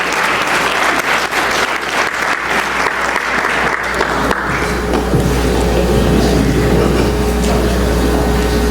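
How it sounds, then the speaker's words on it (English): A gala audience breaks into dense, sustained applause at a professional network's annual dinner event. The clapping fills the room for several seconds, then gives way to a low steady hum of the hall. "Please give a round of applause"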